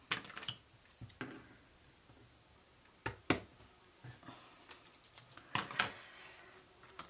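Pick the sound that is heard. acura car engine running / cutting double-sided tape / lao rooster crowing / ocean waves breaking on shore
cutting double-sided tape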